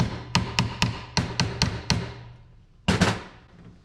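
A hammer taps an alternator part to seat it in its bearing during a rebuild: seven quick sharp metallic taps in a steady rhythm, a pause, then one more firm strike, close and fairly loud with no talk.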